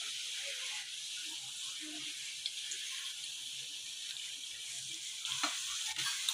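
Onion sautéing in a pan with turmeric and red chili powder gives a steady, close sizzle throughout, with a few faint scrapes and clinks of stirring near the end.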